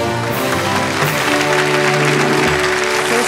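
A group claps in steady, continuous applause for a few seconds in a bathroom on a tour of a historic building, with no voices standing out.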